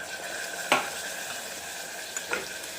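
Water splashed into garlic chutney masala sizzling in a hot pan, giving a sharp hissing burst followed by a steady fry, with a second smaller splash near the end; close and fairly quiet, no talk.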